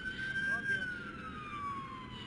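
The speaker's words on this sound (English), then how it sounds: "I'm starting to hear more sirens in this area" A police siren wails, sweeping slowly up and down, fairly loud, over a rumble of traffic and background noise during protests and looting in Baltimore.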